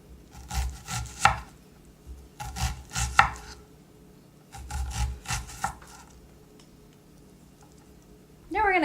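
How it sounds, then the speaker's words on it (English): A knife chops an onion into small cubes on a cutting board, three quick bursts of rapid close knocks separated by pauses, with someone speaking over the cutting. "then you're just going to chop it the other way, and you come out with these nice little cubes of onion"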